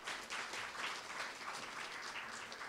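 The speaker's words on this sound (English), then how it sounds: "give those guys a round of applause" A round of applause from the audience at a World IA Day conference welcome in Seattle, soft and somewhat distant, a steady patter of many hands that holds evenly from start to end.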